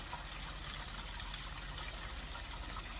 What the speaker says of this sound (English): this is the least impressive waterfall I've ever seen.